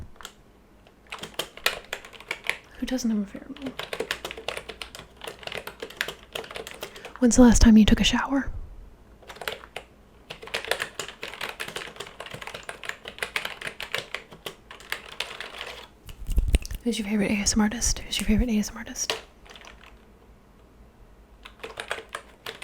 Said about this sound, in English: this is my awesome keyboard